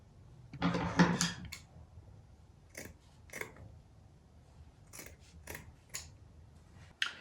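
Scissors snip through folded fabric being cut into a crescent, a dense burst of close crunching cuts followed by several separate short snips.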